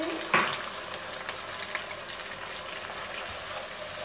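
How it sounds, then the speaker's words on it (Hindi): Ginger, garlic, onion and green chili masala hitting hot oil in a pan for mutton liver kaleji, with a sharp sizzle at the start settling into a steady loud fry, a spoon scraping and stirring through it. "जो अदरक लहसुन प्याज और हरी मिर्च का मसाला बनाया उसको ऐड करेंगे इसमें"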